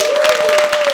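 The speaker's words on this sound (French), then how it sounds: "j'aimerais vraiment qu'on donne une bonne main d'applaudissement aux nouveaux mariés" Wedding guests applauding the newlyweds, a dense burst of crowd clapping with a steady tone humming through it, lasting about a second.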